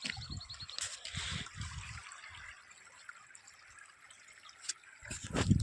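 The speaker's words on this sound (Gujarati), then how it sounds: "ઝરણું છે ઝરણું" A small stream trickles steadily outdoors, a soft continuous wash of running water with a few low rumbles and brief splashy bursts.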